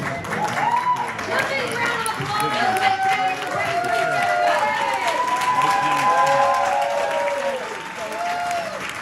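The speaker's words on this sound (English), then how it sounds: "Big round of applause." Crowd applause and cheering at a political party fundraiser, steady clapping with whoops and voices rising over it throughout, tapering slightly toward the end.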